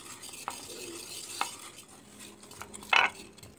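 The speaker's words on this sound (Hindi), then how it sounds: "फिक्सर डालने के बाद बस दो से तीन मिनट आपने मिक्सिंग करनी है ताकि अच्छे से बीच में मिक्स हो जाए" Injection mehndi henna liquid being mixed with fixer in a container, with a few sparse, light clinks and scrapes of stirring at a quiet level and one slightly louder knock near the end, no voices.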